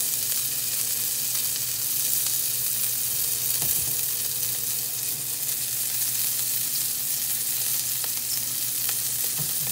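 Scallops sear in a hot pan with a steady, even sizzle that fills the whole stretch, close and fairly loud, with a faint tap or two of handling and no talking.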